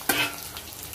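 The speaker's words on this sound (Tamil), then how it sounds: "வரமிளகாய், பச்சை மிளகாய் சேர்த்துக்கலாம். நல்லா கிளறி விட்டுக்கலாம்." Dried red chilies and green chilies stirred in hot oil for lemon rice, a sharp close scrape of the spoon followed by a steady sizzle.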